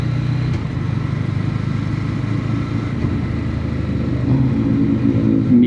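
A Ducati Scrambler Icon motorcycle engine hums steadily while being ridden, a low continuous drone with slight rises in pitch and a small surge near the end, with no voices.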